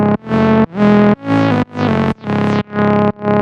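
Distorted synth lead with an envelope sweeping its filter cutoff and no resonance, playing seven sustained, harmonically rich notes back to back, each note opening with a bright swell, loud and alone.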